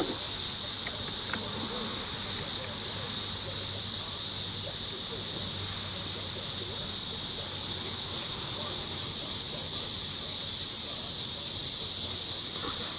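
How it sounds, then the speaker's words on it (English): Outdoor evening insects, crickets, chirp in a dense, steady, high-pitched drone that fills the whole stretch without pause, loud and continuous with no talking. "Got all kinds of annoying bugs making noises this time of the evening."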